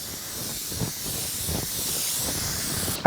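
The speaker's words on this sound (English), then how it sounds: "Now I'm going to spray the 1/2 sheet pan with some cooking spray." Cooking spray hisses onto a half sheet pan in one steady, continuous burst close by, with a brief louder clatter at the very end.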